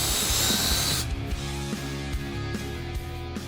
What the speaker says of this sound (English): Drill a 5/32 hole right there and right there to secure this to the fan.